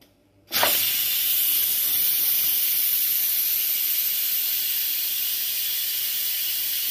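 A pressure cooker that has just finished cooking chicken vents steam: after a brief quiet, a sudden loud, bright hiss bursts out and holds steady and close for several seconds.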